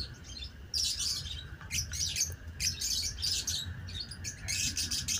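A pet bird chirps in short, bright bursts while a leg ring is fitted onto it. The calls are close and repeated, with brief pauses between them over a quiet background.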